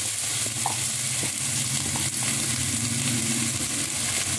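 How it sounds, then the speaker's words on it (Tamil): Onion, garlic and beetroot sautéing in a pan over low gas: an even, close, unbroken sizzle with faint occasional ticks, no one speaking. "பூண்டு, பீட்ரூட் எல்லாத்தையும் போடுறேன்."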